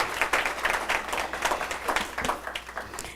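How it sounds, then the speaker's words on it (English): An audience at a city council meeting celebrating women applauds an honoree with continuous, fairly dense clapping from many hands in a room, steady from start to finish. "We can clap for Miss Winnie Tang."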